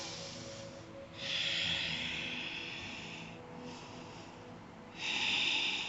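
Slow, audible breaths during a seated yoga forward fold over one leg, close and soft: two long airy inhale-exhale swells with a hissy, slightly nasal quality, separated by quieter pauses, no talking.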